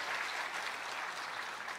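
Church congregation applauding during a Sunday worship service, a steady dense wash of clapping that holds at an even level from start to finish with no voices standing out.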